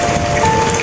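Steady rain pours down without a break, a constant near hiss of drops on a surface, with no voices.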